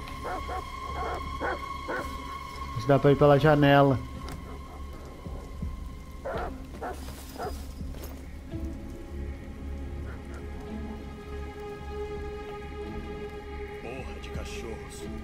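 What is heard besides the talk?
dogs barking in the rain, from video game Detroit: Become Human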